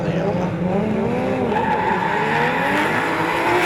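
Drift cars at Wellington Speedway launch side by side for a drag race into a sweeping right-hander, engines revving hard with rising whine and tire squeal, loud and close, and a commentator's voice runs underneath.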